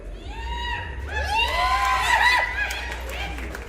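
A crowd at a Shiv Sena political rally shouts and cheers, many raised voices swelling to a loud peak midway and then easing, over a steady low hum.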